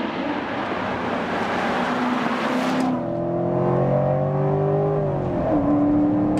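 A Corvette C7 Stingray V8 revs hard under acceleration, a loud rising engine note that climbs through the gears with a broad roar and smooth harmonic whine, close and steady with no talking.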